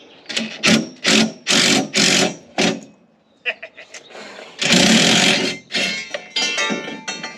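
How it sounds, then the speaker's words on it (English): A power drill fitted with a bit that is too small works rusted seat nuts loose, sounding in several loud whirring bursts, then a pause and a longer grinding run, with speech between the bursts. "I'm using a bit that's way too small for these nuts."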